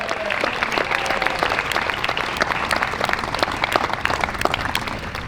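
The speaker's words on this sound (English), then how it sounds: "give another round of applause for those who have served" Crowd applause at an outdoor community band concert in a park at night, many individual claps crisp and close, sustained evenly with no talk over it.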